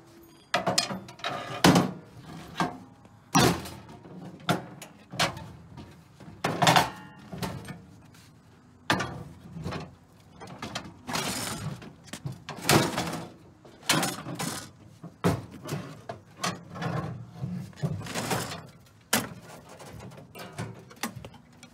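Heavy metal bottom panel of an abandoned ATM, its rods cut off, being pulled and worked open, giving repeated close thunks, scrapes and clanks in irregular bursts with no talk.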